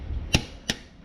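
A torque wrench clicks as it reaches 60 foot-pounds while a piston rod is bolted to a crankshaft in an X pattern: two sharp, close clicks about a third of a second apart over a quiet room.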